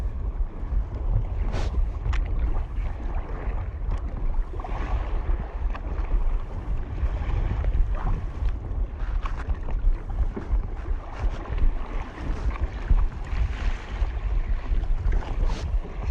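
A sea kayak rides small waves off Tasmania in strong wind, with constant wind buffeting across the microphone and water sloshing and splashing around the hull in an irregular rhythm.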